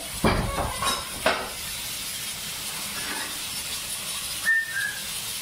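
A pressure cooker cooking goat trotters gives off a steady, close steam hiss, with a few metallic clanks early on and a brief whistling tone near the end.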